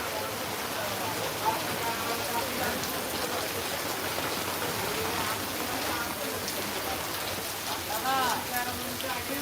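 Steady rain pours over an outdoor livestock market at Gabtoli, a continuous hiss of drops on surfaces with brief voices and faint calls mixed in the background.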